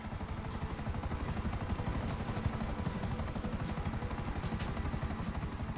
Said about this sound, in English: We got 2 helicopters on the back right now.